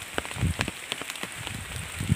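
Rain falls during the rainy season outdoors at a village cooking site, heard as scattered irregular drops and splats on a surface, with close, uneven taps and light patter throughout and no speech.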